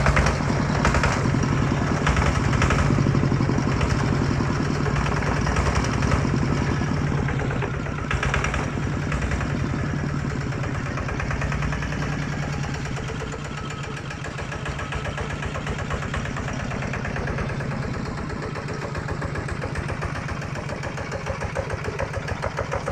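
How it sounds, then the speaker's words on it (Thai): A hand-crank Macnum 155 Plus diesel engine idles steadily with a rough, rhythmic low chug, close by, easing slightly quieter partway through; no voices. "เครื่องยนต์นะครับ"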